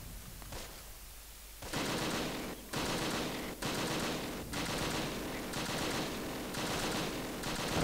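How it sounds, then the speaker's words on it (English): Gunfire in the Close Combat video game as a field gun is engaged with direct fire: repeated bursts of sharp shots, fairly faint and evenly spaced, with no talk. "Let's see if we can take the field gun out with direct fire."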